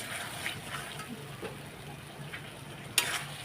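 Food sautéing in a pan for a Bengali home-cooked meal, a soft continuous sizzle with light scraping and a sharp clink near the end.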